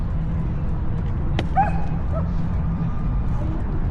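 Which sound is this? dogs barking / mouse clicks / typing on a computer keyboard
dogs barking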